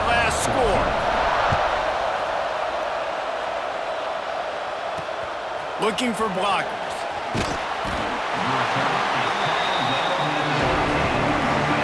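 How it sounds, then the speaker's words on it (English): Stadium crowd noise in the College Football 26 video game, a steady roaring buzz running the whole way under a play-by-play announcer's voice, with a few sharper cheers and hits breaking through. "this crowd is buzzing after that last score"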